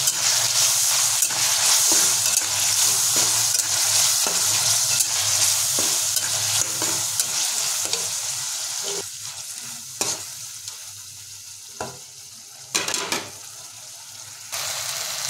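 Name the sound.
tomato and ginger paste sautéed with spatula on low flame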